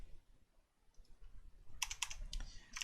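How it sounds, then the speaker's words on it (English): Typing on a computer keyboard while writing HTML code: a short flurry of soft, fairly close key clicks near the end, after a quiet stretch. "in here I'm going to type in home page."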